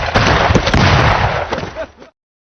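Gunshots in a film scene where white men shoot people down, a dense burst of loud overlapping shots and blasts that fades out after about two seconds.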